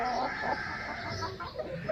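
A large Thai Aseel hen sitting on a clutch of eggs gives soft, close clucks and low murmurs over a steady background hum.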